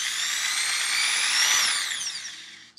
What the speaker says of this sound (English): what I'm gonna do is gradually drill larger and larger holes